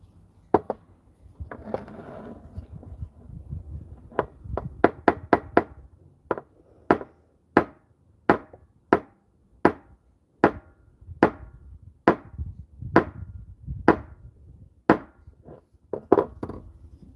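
Metal tapping on a padlock at a workbench, striking the body to free a stuck shackle: about twenty sharp, close knocks in a steady rhythm, a quick cluster early on and then evenly spaced blows, with no talk.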